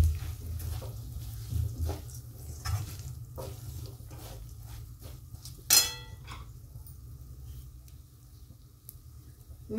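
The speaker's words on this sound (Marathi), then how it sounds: "आता हे शेंगदाण्याचं कूट टाकून घेऊ।" Crushed roasted peanuts tumble into a pan and get stirred in, giving a soft, steady scraping and light sizzle with a sharper clatter near the middle, close and moderately quiet, with no talking.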